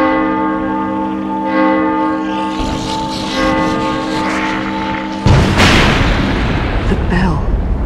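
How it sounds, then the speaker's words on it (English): A bell tolls in The Evil Within DLC, its sustained ringing tones hanging for several seconds before a heavy, booming impact cuts in and rumbles on. "The bell."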